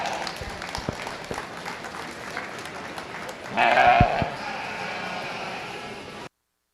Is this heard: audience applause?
yes